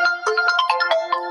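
A mobile phone ringtone chirps in a quick, bright run of repeated melodic notes, close and clear with nothing else behind it.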